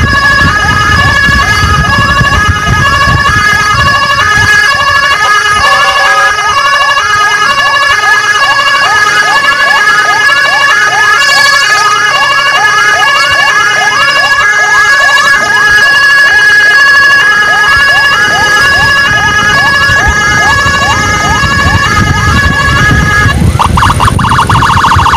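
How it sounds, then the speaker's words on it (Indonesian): Ambulance emergency siren in Samarinda wailing continuously and loudly with a rapid warbling pattern throughout, with faint background voices near the end. "Kasih jalan ambulan emergensi."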